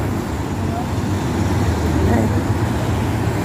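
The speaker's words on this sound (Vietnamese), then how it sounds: "À, quá trời kẹt xe, cả nhà thấy không?" Heavy traffic jam on a road, with a dense, continuous roar of engines and tyre rumble from many nearby vehicles, loud and unbroken for the whole stretch.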